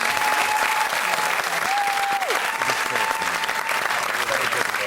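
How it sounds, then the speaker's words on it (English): A studio audience at a Christmas television quiz show breaks into sustained, even applause throughout, with a faint tone running underneath. "A round of applause for Miff, Peter and Denise."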